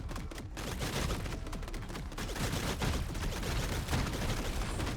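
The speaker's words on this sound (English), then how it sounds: "Do some ricocheting bullets here." Dense, continuous gunfire from ricocheting bullets in the roguelite game Kiborg, a steady barrage of overlapping shots filling the scene at even loudness with no pauses.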